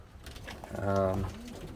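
Pigeons coo in a loft, one soft rolling coo rising and falling near the middle, close by over a low background hum.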